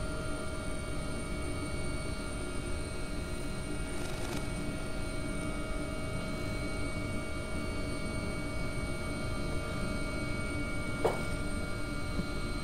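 An AW-139 helicopter in the X-Plane 11 flight simulator flying along the Scottish west coast, a steady droning engine and rotor hum with a constant whine, even and unbroken throughout.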